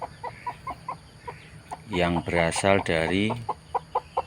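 Nearby chickens cluck in short, rhythmic bursts, with one longer, louder drawn-out squawking call in the middle. A voice speaks briefly over them.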